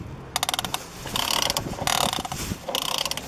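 A plastic toy dump truck's mechanism clicks and ratchets up close, beginning as a series of separate sharp clicks and building into rapid buzzing bursts of ratcheting with short pauses between them.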